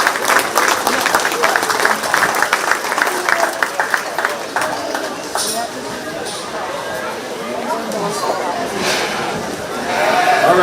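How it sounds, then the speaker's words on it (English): Crowd applause for kids at a 4-H/FFA sheep show at the Shelby County Fair, a steady clapping wash with sheep bleats and voices mixed in, fading slightly midway before swelling again at the end. "Let's go ahead and give these kids a big round of applause."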